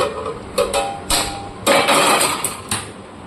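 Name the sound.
lid removed from dhokla cooking pan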